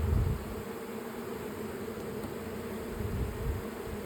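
Honeybees buzz steadily around a heavy, syrup-laden hive frame near their feeder, a continuous close drone holding an even level throughout, with no talking.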